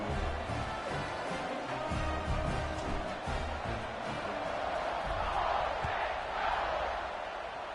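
A large stadium crowd cheers and roars at an Ole Miss college football game in the fourth quarter before a kickoff, a steady dense wash of distant voices that swells slightly, with commentary faintly beneath.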